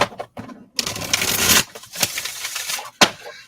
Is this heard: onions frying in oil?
no